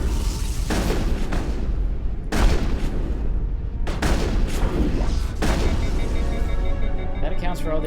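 Shotgun fire in the video game Mass Effect: several heavy, booming blasts spaced a second or two apart over a dense, continuous battle din, loud and close, with a voice talking underneath.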